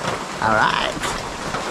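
Heavy rain pours down in a continuous, loud wash of hiss and patter, with a brief spoken word over it partway through.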